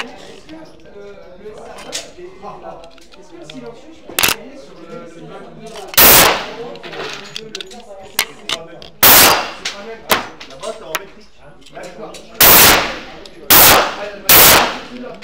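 A Colt 45 pistol fires a series of sharp, loud shots at an indoor range, each a hard crack with a short ringing tail, spaced irregularly about a second or two apart, with people talking quietly between them.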